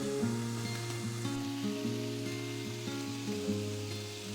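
An egg frying in oil in a pan, giving a steady close sizzle and crackle with a low tonal hum running underneath.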